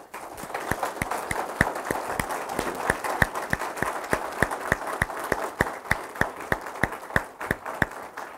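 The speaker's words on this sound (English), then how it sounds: "I think we should show that with a solid round of applause" Clapping for congressional candidates of the 8th District at a Cape Girardeau gathering, sharp claps in a steady, even rhythm about four per second, moderately loud and close, continuing without talk.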